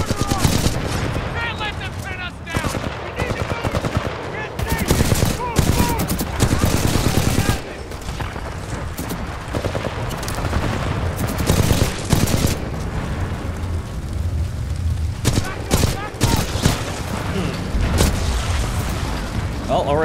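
Rapid gunfire and booming bursts from a firefight in the video game Titanfall 2, played on PC, loud and dense throughout with overlapping shots, explosions and game voices.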